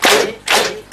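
Theatre audience applause during a stage show, heard as three loud, dense bursts of clapping in quick succession, close and filling the moment with no talk over it.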